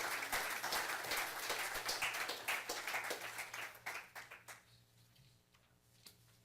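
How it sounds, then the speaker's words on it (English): Audience applause at a city council meeting: a dense burst of clapping that thins into scattered claps and fades out, fairly faint and heard from across the chamber. "Let's give a round of applause."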